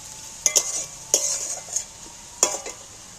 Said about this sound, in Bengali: হালকা আঁচে ভাজতে ভাজতে পেঁয়াজটা ভাজা হয়ে গেছে